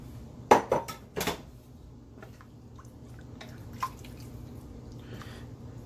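Beef goes back into a pot of fiend stew and gets stirred in, with a few close clinks and scrapes of a utensil against the pot early on, then faint wet stirring and an occasional tap.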